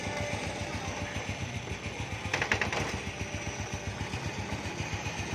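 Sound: Honda Wave Alpha motorcycle engine idling

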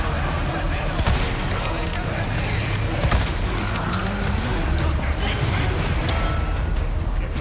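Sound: gunfire in video game Resident Evil 4 Remake

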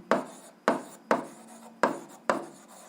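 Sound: writing by hand during an algebra lesson

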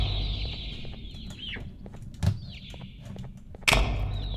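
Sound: birds clucking in the video game Garten of BanBan II

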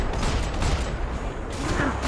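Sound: gunshots in the video game Max Payne 3

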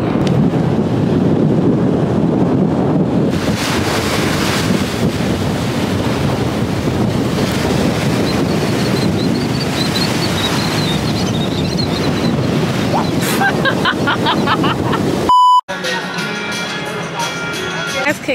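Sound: strong wind at the coast

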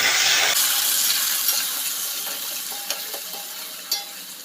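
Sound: prawns frying in ghee

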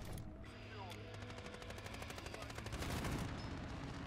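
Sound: gunfire from a video game

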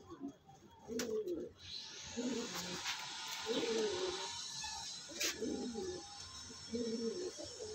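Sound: pigeons cooing

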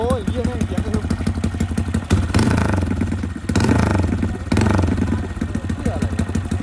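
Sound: small motorcycle engine running

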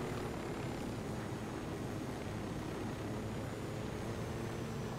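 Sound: helicopter in the video game Ghost Recon Wildlands

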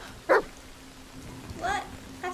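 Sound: dog barking

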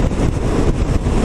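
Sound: gust of wind on scooter ride, Yamaha X-Max

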